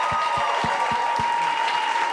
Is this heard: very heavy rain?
no